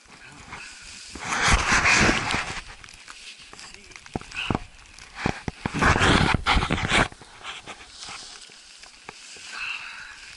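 A dog panting in the snow beside a freshly shoveled spot during a blizzard, with close, breathy bursts of panting and whimpering in uneven clusters, plus some footstep-like crunches.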